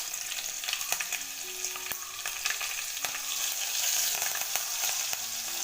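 Mustard seeds, asafoetida, green chillies and curry leaves frying in hot oil, a continuous close crackling sizzle dotted with sharp pops and spits from the seeds.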